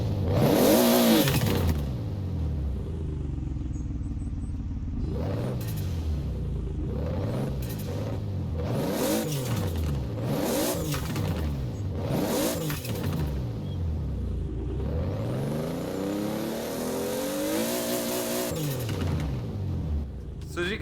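A Toyota Supra's 2JZ engine revs repeatedly in Forza Horizon 4, a deep loud rumble climbing and falling through gear changes and throttle blips, with tire noise and a voice underneath in places.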